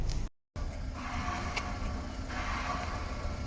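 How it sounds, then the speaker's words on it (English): A cheap used Honda car runs with a suspected worn clutch release bearing, giving a steady low mechanical hum and whir close by, cut by a brief dropout near the start. "That sounds like release bearing."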